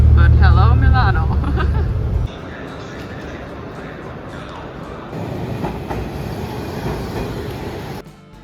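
An old tram in Milan rumbles along rails with a steady rolling rattle, loud at first then settling into a lower clatter, with people talking over it.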